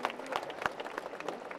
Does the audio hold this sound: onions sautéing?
no